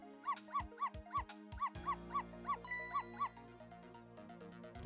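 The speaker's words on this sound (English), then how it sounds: "So if you bark like that, you'll make the lady next door start howling." A little dog in the Ghost Trick: Phantom Detective video game barks in a quick regular series of about ten sharp yaps, set over game music, then falls silent as the music carries on.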